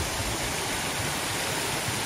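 A waterfall at the source of the cascades in Ariège roars in a dense, unbroken broadband rush, loud and close, with no voices.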